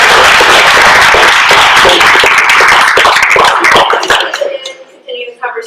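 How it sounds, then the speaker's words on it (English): An audience claps at the close of a university School of Education panel discussion, loud, dense applause that thins and tapers off toward the end. "can I have a round of applause?"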